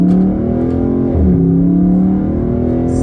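A car engine revs with paddle shifters in manual mode, giving a loud, close, sustained whine that dips briefly in pitch at a gear change and then climbs again.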